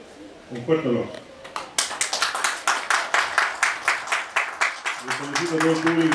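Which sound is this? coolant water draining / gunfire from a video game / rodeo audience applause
rodeo audience applause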